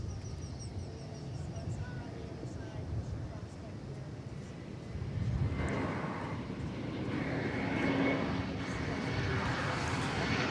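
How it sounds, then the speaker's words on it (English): An American Airlines Airbus A321 lands at DFW Airport, its engine rumble swelling louder partway through and holding at a distant, steady roar while a voice talks over it. "Here comes American Airlines Flight 313 from San Diego. Let me pull out and get that for you coming in. It's an Airbus A321."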